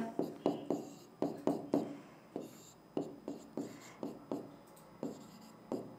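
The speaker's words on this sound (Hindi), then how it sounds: "तो मैं यहाँ पे साइड में लिख देती हूँ माइटोकॉन्ड्रिया" Chalk or marker taps and scrapes on a board in quick irregular strokes as a word is written during a biology lesson, close and fairly quiet, with no one speaking.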